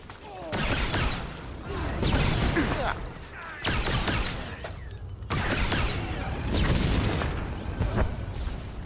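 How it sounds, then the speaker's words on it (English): Grenade explosions in a Star Wars video game set on Alderaan, several heavy booming blasts with rumbling debris in repeated waves, loud and close. "Grenades."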